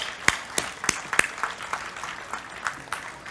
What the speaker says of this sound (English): I want to give you a round of applause for what you've done.